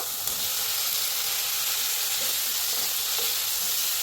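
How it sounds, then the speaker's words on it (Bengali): Potatoes sautéing in a pan of fried cumin, coriander powder and tomato give a steady, close sizzle with faint stirring scrapes, heard on its own without talk. "আলুটা দিয়ে 5 মিনিট একটু সাঁতলাই নিব"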